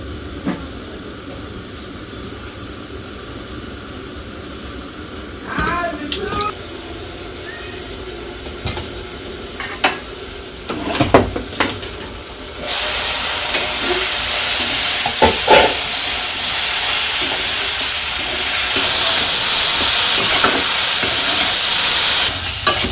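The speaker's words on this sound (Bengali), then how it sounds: "তো এখন ভালো করে শাপলাগুলো কষে নেই।" Water lily stems being stir-fried in a pan in a village kitchen, with scattered stirring clatters and then a loud, steady hiss of sizzling steam that swells partway through.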